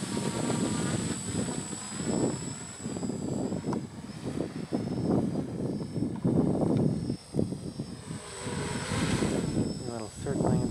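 A small ArduCopter drone flies toward the recorder across open, uneven ground, a steady motor whine running throughout beneath a voice, with wind buffeting the microphone.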